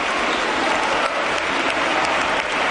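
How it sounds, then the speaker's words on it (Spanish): Applause from deputies on their benches in parliament: loud, dense, continuous clapping from a large group, filling the whole stretch without pauses. "más abucheos y aplausos de su bancada"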